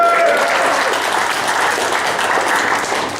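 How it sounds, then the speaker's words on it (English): Audience applause and cheering at a rap battle in Brisbane, a dense steady roar of clapping and crowd noise filling the whole stretch, loud and close, with a faint voice beneath. "make some noise for Rhyme Form"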